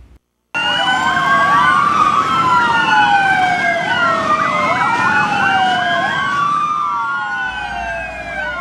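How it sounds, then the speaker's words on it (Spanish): Several emergency sirens wail together in overlapping rising and falling tones, loud and continuous, with motorcycle engines rumbling beneath as a caravan rolls through the dairy-farming hills near San Pedro de los Milagros outside Medellín. "con el sonido de las sirenas, de los motores, ustedes van a poder apreciar"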